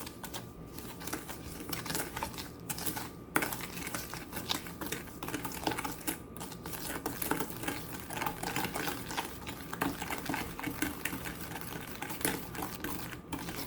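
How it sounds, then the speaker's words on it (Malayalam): Muttayappam batter ingredients are mixed together, producing a steady, rapid rattling whir that runs continuously at moderate level with no voices. "നമുക്കിപ്പോൾ ഇത്രയും ഇൻഗ്രീഡിയൻസ് നന്നായിട്ടൊന്ന് മിക്സ് ചെയ്ത് കൊടുക്കാം"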